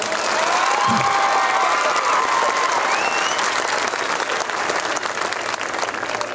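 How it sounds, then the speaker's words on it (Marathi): Men in a lecture audience clap together in loud, dense, continuous applause that holds steady for several seconds, with faint crowd noise mixed in. "आता फक्त जेवढे इथं पुरुष उभे आहेत ते टाळ्या वाजवायचा"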